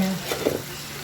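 Adobo marinade hitting a hot pan, a brief steady sizzle with some stirring noise, close and alone without talk.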